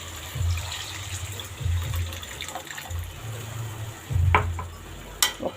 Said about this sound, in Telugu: చూడండి నేను ఇప్పుడు చింతపండు వాటర్ వేసుకుంటున్నాను.